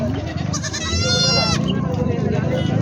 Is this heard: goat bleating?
yes